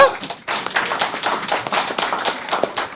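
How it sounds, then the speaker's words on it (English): Audience clapping at a book launch for a general history of St Vincent and the Grenadines, sharp irregular claps from a modest crowd, fairly close, rising after a brief pause and continuing unevenly. "Special clap for our minister."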